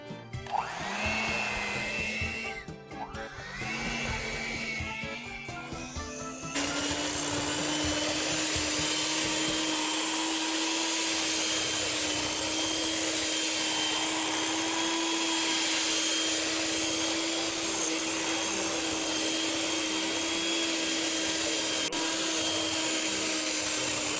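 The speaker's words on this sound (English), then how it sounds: "I'm going to pull in my hand mixer and mix that all up until it's all combined together." Electric hand mixer beating ricotta cookie batter in a bowl, first a few stuttering bursts, then a steady high whining motor drone that runs unbroken and fairly loud.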